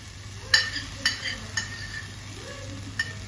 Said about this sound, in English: Now I'm going to add ghee. Stir.